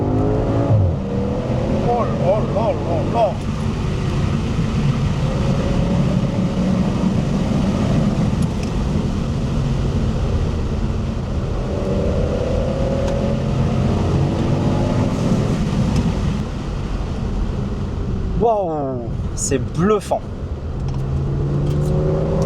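A 2008-era Audi RS6 C6 with a twin-turbo V10 pulls hard through the gears from inside the cabin, with loud, rising engine roar, brief dips at shifts, and a driver exclaiming over the noise.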